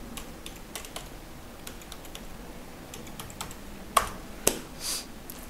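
A password is tapped out on a computer keyboard, with a quiet scatter of separate key clicks at an uneven pace and two sharper, louder strikes near the end, close by with no speech.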